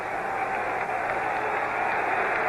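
Football stadium crowd at a 1977 Steelers vs Cowboys game, a broad, steady roar of cheering that swells slightly toward the end and stays distant and continuous throughout.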